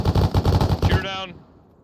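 Machine gun fire during a military field exercise ambush comes as a rapid, loud burst of about a dozen close shots lasting roughly a second, then a short fading echo.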